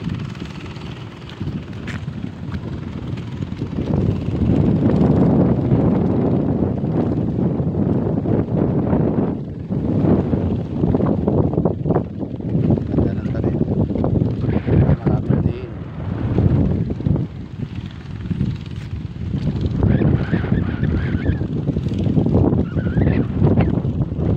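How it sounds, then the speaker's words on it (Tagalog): Strong wind in an open farm field buffets the microphone in long roaring gusts, with a voice speaking faintly now and then underneath. "Sarap ng hangin, presko."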